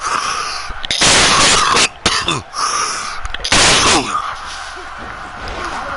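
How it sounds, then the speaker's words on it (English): A man coughs several times in harsh bursts, loud and close, with short pauses between fits. "Man, I'm on a coughing jag, sorry."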